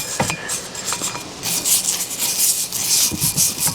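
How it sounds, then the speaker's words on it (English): Cleaning a Columbian #206 vise part with a brush, a steady scratchy rubbing that rises and falls in repeated strokes, close and fairly loud with no talk. "So we'll give it a good brushing."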